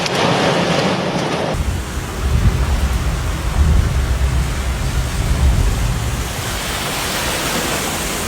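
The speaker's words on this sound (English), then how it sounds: "loud rumbles of thunder announced the approaching storm" A severe thunderstorm over a German city, with a sudden shift into loud, dense heavy rain and deep rolling rumbles of thunder underneath, roaring continuously.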